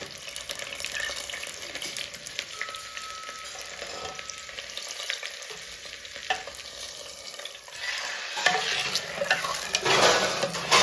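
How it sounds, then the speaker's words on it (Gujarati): Hot oil sizzles as a tempering for a yogurt-based dish spits and crackles in a home kitchen, joined by stirring clinks and a brief burst of running water near the end, no speech. "એનો વઘાર કરી દીધો ગાઈસ."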